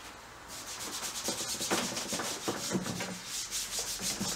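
Sandpaper rubs over the ground layer of a painting in steady, close back-and-forth strokes, a continuous gritty scratching with a gentle rhythmic pulse.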